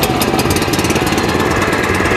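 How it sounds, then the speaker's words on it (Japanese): The small engine of a J-FAP mower runs at a steady idle just after starting, a loud, close, rhythmic putter with a throbbing low end and no voices. "エンジンがかかったらば、このチョークを戻します"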